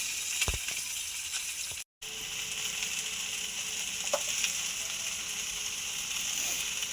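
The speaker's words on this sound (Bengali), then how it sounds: "এবার আমি ধুয়ে রাখা ভেন্ডিটা দিয়ে দেব।" Small fish and onion fry in a pan as washed okra is added, giving a steady, moderate sizzle with a few light clicks and a momentary cut-out near the start.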